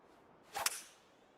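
A golf club swing whooshes once, sharp and close, in a video game round played into a headwind: one quick swish rising out of near silence and fading fast.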